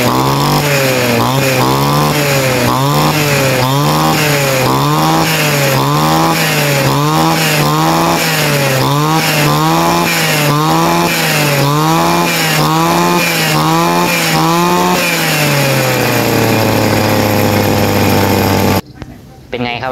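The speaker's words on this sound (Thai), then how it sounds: "เสียงเร่งเครื่องนี่โอ้จี๊ดจ๊าดเลยหลังจากที่เปลี่ยนหัวเทียนตัวใหม่เข้าไปครับ" RBC411 brush cutter engine fitted with a new spark plug, revving loudly and close in repeated rhythmic surges, then holding a steady high pitch before abruptly cutting off.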